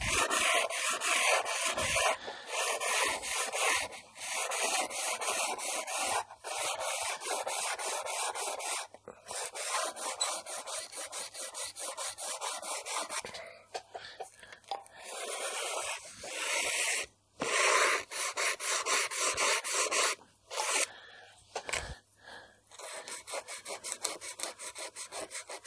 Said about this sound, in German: Ich schleife nicht ganz durch.